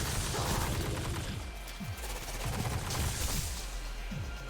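Gunfire in Destiny 2 during a Shattered Realm forest fight, a run of muffled shots and mechanical clicks, roughly five evenly spaced, low and steady under a dense wash of game sound and music.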